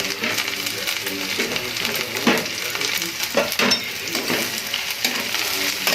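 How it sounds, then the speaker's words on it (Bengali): Carrots and beetroot fried together in a pan for chilli garlic noodles, a dense, loud sizzle with irregular spatula scrapes and knocks as the vegetables are stirred. "গাজর অ্যান্ড বিট সমস্তটাই একসাথে দিয়ে দেবো, ফ্রাই করে নেব।"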